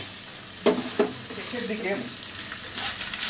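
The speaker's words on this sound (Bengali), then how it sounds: "মুরগিটা ভাজা যখন শেষের দিকে, তখন আমি এই কয়টা কাজু বাদাম দিয়ে দিব।" Chicken pieces fry with a steady hiss of hot oil, while a couple of sharp stirring clunks near the start are followed by a few words of talk over the sizzle.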